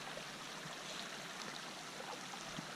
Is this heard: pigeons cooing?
no